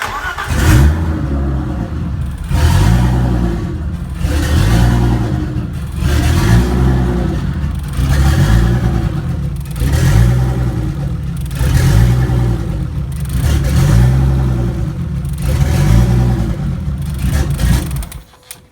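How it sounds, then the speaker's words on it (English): A 1988 BMW E30 325iX with a turbo install idles unevenly after a redone blown head gasket repair, its engine note swelling and dipping in a slow rhythmic hunt roughly every two seconds, close and steady, with no speech. "Usually doesn't idle like that, but it sounds a lot better than it did on no compression."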